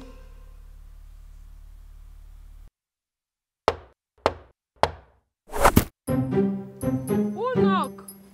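Knocking on a door: three sharp, separate raps with short gaps after a low hum cuts out, followed by a voice talking nearby.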